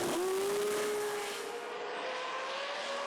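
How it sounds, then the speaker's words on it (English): A turbocharged drag racing car roars past with a high turbo whine that slowly drops in pitch as it fades into the distance. "Listen to that turbo."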